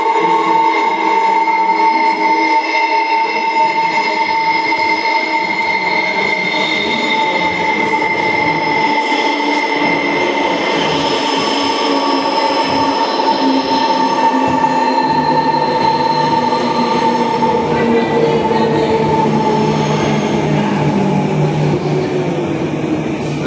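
Perth metro train pulling in and running, with a loud sustained rumble and high squealing wheels on the rails, a clear tonal whine holding steady over the roar, close by and continuous.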